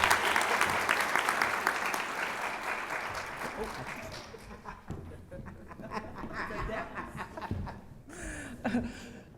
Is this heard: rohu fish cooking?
no